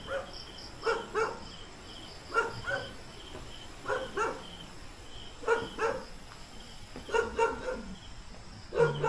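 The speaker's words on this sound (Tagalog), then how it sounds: "Nag-ingay ang aso kasi." A dog barks repeatedly in short bursts, fairly distant, near a house in the mountains, with steady insect chirping in the background and no talking.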